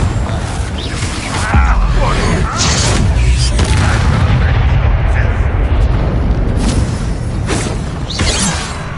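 A Confringo fire spell blasts in the Hogwarts Legacy video game, a loud booming explosion with a crackling burst that rumbles on amid dense combat noise for several seconds.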